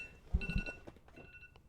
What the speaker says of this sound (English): I don't know why my alarm just went off there.